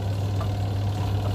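A repaired washing machine spin dryer turning again, giving a steady low motor hum up close that holds evenly throughout with no voices.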